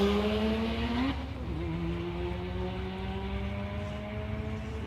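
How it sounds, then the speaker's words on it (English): A rotary-powered Toyota Corolla with a manual gearbox holds a loud, steady engine drone on its two-step launch limiter at a drag strip, with a brief pitch drop early on before the tone settles. "the little Corolla rotary powered manual. Listen to it up on the two-step."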